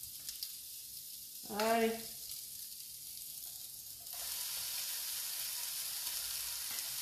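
Small skewers sizzle on a grill, a steady hiss that swells loud and close in the second half after a short spoken word near the start.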